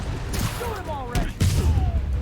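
Gunfire bursts in Marvel's Spider-Man Remastered on PC, a few sharp shots and a boom mixed with game dialogue and a voice speaking.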